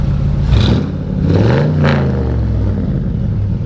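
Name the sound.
1957 Ford Thunderbird with Corvette LS engine revving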